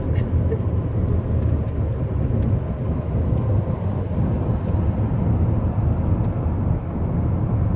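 Trucks rolling along a road near Picacho Peak and Grant Road in Tucson, Arizona, a steady broad rumble of passing traffic heard from inside a moving vehicle, continuous and fairly loud.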